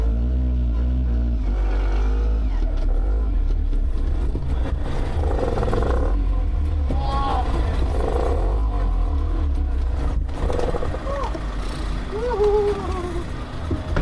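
Small Töffli mopeds pull away on a road tour, their engines droning steadily and loudly throughout with a continuous low rumble and rising revs, and no talking.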